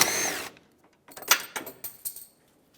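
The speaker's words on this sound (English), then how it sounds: "I'm going to disconnect both of these lines with a 13 millimeter socket on the nut" Hand tools at work on a 2012-2020 Ford Focus AC line nut with a 13 mm socket: a brief whirring burst followed by a run of close metallic ratcheting clicks and clatter.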